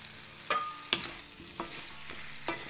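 Minced garlic sizzles gently in sesame oil over medium-low heat in a pan with potatoes, a soft continuous frying hiss punctuated by several scraping stirs of a utensil.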